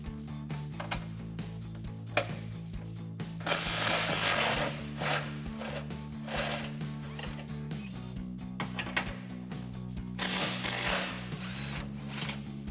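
Ratchet with an 18 mm socket loosening skid plate bolts on a Jeep Gladiator JT, heard as steady mechanical clicking over a low drone, with bursts of louder broadband noise, no talk.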